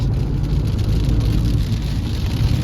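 Steady patter of large raindrops drumming on a car roof while driving near Slavske, Ukraine, a dense continuous hiss over a low rumble of the vehicle.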